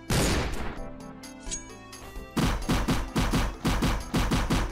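AK rifle fire in a Roblox shooter: an opening burst, a short lull, then a steady string of loud, evenly spaced automatic shots close by, with no talking.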